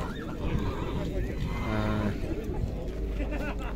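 A horse at the Jumgal horse market in Naryn gives a drawn-out whinny midway through, set against a steady din of crowd chatter and livestock noise.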